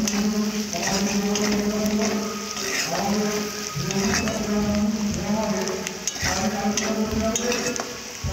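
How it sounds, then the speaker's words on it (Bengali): Spices sizzling with onions in a pan for a Bengali meat kosha, a steady frying crackle with occasional stirring scrapes, continuous and close. "মশলাগুলো ভালো করে ভেজে নেব।"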